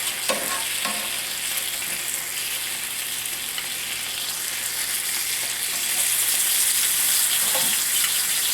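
Streak o' lean pork sizzles steadily in a cast iron pan, a soft continuous frying hiss broken by a few scraping stirs as the pieces are moved around, with no talking.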